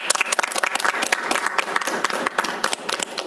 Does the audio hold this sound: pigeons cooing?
no